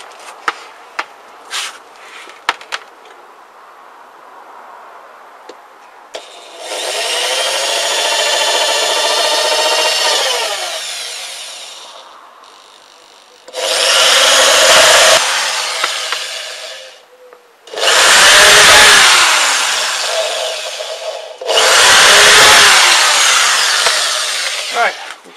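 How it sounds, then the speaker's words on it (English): A small bit in a power drill bores holes in wood for a tool organiser, several loud whirring bursts of a few seconds each separated by pauses, with light handling knocks between. "Let's drill the holes."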